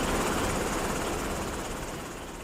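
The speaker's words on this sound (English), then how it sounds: "the thrum of a Black Hawk helicopter." Steady, pulsing thrum of a Black Hawk helicopter, a loud rumbling wash of rotor noise that fades slightly toward the end.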